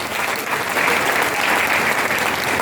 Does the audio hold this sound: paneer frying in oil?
no